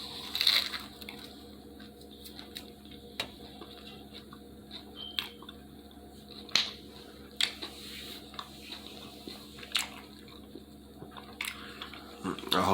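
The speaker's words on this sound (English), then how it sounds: "this is a actual pizza MukBang, which is a regular Domino's pizza MukBang" Regular Domino's pizza eaten close to the mic, with soft crunchy bites, wet chewing and squishy mouth sounds repeating irregularly over a steady low hum and background noise.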